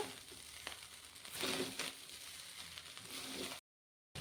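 Green chillies, soaked raisins, salt and sugar are stirred in a hot pan, with a steady sizzle and gritty scraping and crunching throughout before the sound cuts off abruptly.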